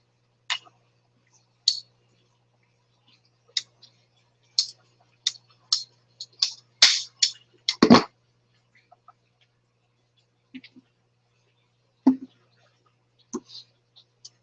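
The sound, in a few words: cutting a pipe in half for a T-syphon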